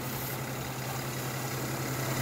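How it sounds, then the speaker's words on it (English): A 2013 Mercedes C300 4matic V6 engine idles with a steady, even hum and broad hiss, heard close under the open hood with no talking. "This hood, V6 Mercedes engine"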